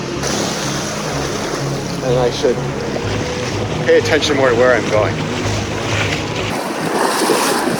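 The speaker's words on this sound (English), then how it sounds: "Walking in the water, walking in the sea." Sea water sloshing and splashing around someone walking through shallow waves along a rocky shore, with wind buffeting the microphone and a person talking over it.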